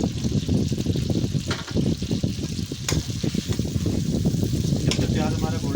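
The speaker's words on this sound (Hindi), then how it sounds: "अब हम इसके अंदर प्याज डालते हैं।" Onions sizzle in hot oil for aloo pulao, a dense steady crackling fry that carries through the whole stretch, close and fairly loud.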